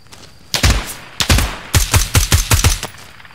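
Gunfire in a close-quarters night shooter game at a small rail station: a couple of loud single shots, then a rapid burst of about six sharp, close reports, with no talk.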